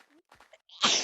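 A single sharp sneeze bursts out close to the mic at the end, after a few soft breathy sounds.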